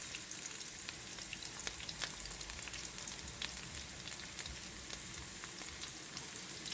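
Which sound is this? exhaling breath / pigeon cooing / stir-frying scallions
stir-frying scallions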